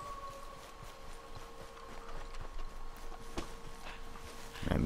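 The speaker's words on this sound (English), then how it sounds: "Come on, horse." Horse hooves in Red Dead Redemption 2, a steady clip-clop of galloping under a sustained background tone, moderately loud throughout with a brief louder burst at the end.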